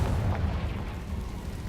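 A Confringo fire spell from Hogwarts Legacy bursts in a dense, rumbling low-end boom that holds steady through the short moment, with no voices over it.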